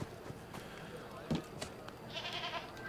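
Goats bleat faintly in Assassin's Creed Unity, a short bleat coming late over quiet in-game background sounds and soft thuds.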